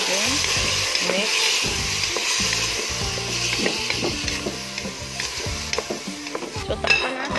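A spoon stirs Valenciana rice and meat in a hot sizzling pan, with repeated scraping and clanking strokes over a steady frying hiss, close and fairly loud.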